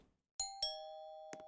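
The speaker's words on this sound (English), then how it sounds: "Doorbell rings again." A doorbell in the Roblox video game rings twice in quick succession with clear bright chimes whose tones linger, then two brief knocks or clicks follow near the end.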